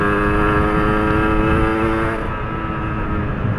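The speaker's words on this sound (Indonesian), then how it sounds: "Ini first impression Bang Ren pakai knalpot baru dari garasi 205." Yamaha RXZ two-stroke motorcycle fitted with a Garasi 205 underbelly exhaust, revving loud and close with a buzzing, harmonic-rich tone that holds high, then eases slightly toward the end.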